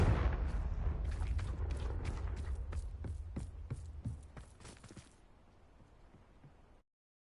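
Repeated blasting-spell explosions from a Harry Potter video game, a rapid series of sharp booms and cracks over a rumbling bed, thinning out and fading toward the end before cutting off.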